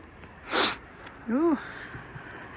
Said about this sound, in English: I'll be sniffling because I'm cold